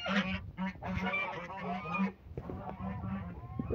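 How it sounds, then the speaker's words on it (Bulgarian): Domestic geese honk repeatedly and loudly close by on a farm, a busy overlapping chorus of nasal calls with brief pauses, joined by a few fainter lower honks toward the end. "Ето ги гъските."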